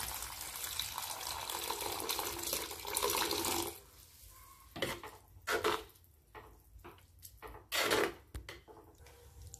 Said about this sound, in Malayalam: ഇനി നമുക്ക് ആവശ്യത്തിന് വേണ്ട വെള്ളം ചേർത്ത് കൊടുക്കാം.